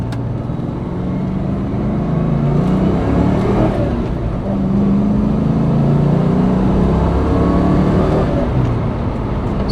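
A 1993 Ford Mustang Cobra engine revving up and holding high revs, loud and close, a continuous throaty roar with rising and falling pitch and no one talking.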